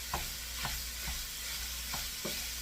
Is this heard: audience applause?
no